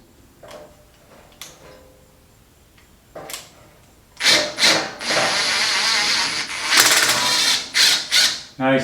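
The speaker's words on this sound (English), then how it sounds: "We're going to take the impact and we're going to try and pull this off." An impact wrench pulls a pulley off a Rockwell/Delta band saw, starting with a few faint ticks and taps, then loud sustained rattling bursts with short pauses between them, close by and with no talk.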